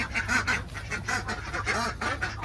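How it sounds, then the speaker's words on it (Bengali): Hungry ducks kept in a small shed on a village farm quack loudly and repeatedly, a dense overlapping chorus of nasal calls at close range. "ওরা খিদার জ্বলাই চেঁচাইতেছে"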